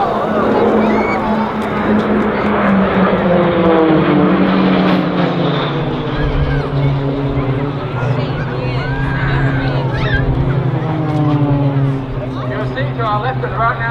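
RAAF Roulettes Pilatus PC-9A propeller trainers flying a formation aerobatic display at RAAF Base Point Cook, their engine drone swelling and shifting in pitch throughout, heard under a public-address commentator's voice.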